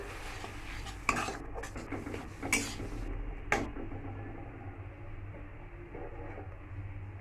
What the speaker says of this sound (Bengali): কড়াতে আমি পেঁয়াজ বাটাগুলো দিয়ে দিলাম, দিয়ে ভালো করে নাড়াচাড়া করছি।